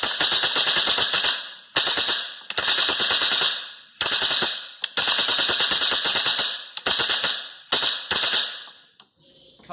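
A wooden ratchet noisemaker (matraca) is spun in loud, close bursts of rapid clattering that mimic machine-gun fire, about eight bursts with short pauses between them.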